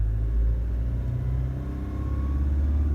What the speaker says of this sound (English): If I give it a little rev,